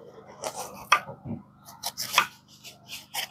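A knife chops through banana flower in a series of irregular crisp strokes, close and fairly quiet, with no talking.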